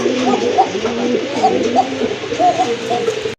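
A pair of huge milly-coloured pigeons coo repeatedly in soft, throaty bursts close by at a pigeon market, a steady overlapping murmur with no talking.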